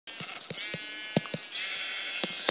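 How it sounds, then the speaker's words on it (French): Sheep in the video game Minecraft bleat steadily, a sustained wavering tone punctuated by several short clicky game sounds, close and alone with no talk. "je vais déjà tuer un mouton"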